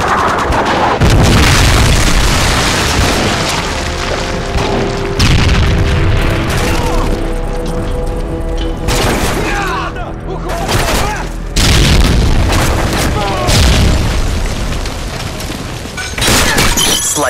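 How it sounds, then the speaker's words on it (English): A Predator missile strike in Call of Duty: Modern Warfare 3 multiplayer booms loudly amid continuous gunfire bursts and shattering debris, dense and close throughout, with game voices mixed in. "Friendly Predator missile inbound."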